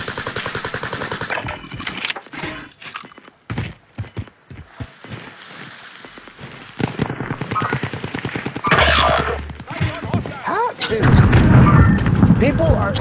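Rapid bursts of super carbine gunfire in an online shooter, loud and close, broken by pauses and mixed with other game effects and a talking voice.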